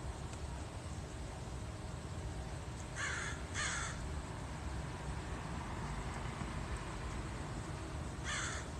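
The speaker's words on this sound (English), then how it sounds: "Can that crow befriend me? I want a pet crow so I can look like a witch." A crow caws in two quick bursts near the middle and once more near the end, fairly close and clear over a low, steady urban background hum.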